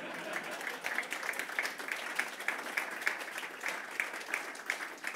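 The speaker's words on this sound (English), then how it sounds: "And then we're going to clap" A room full of people claps together at a neighbourhood enterprise and culture event, steady dense applause at moderate volume with a few louder individual claps standing out throughout.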